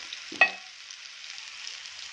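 Chopped potato and onion frying with red chilli give a soft, even sizzle throughout, broken early by a single sharp clink of a utensil.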